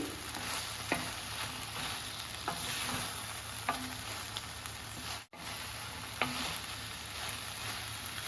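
Coriander leaves, tomatoes, green chillies, cumin, coriander seeds, chana dal and tamarind fry in a pan for coriander chutney, giving a steady dense sizzle with occasional soft stirring clicks and a short dropout near the end.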